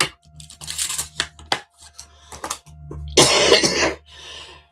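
A person coughs and clears their throat several times in short bursts, with one harder, longer coughing fit near the end.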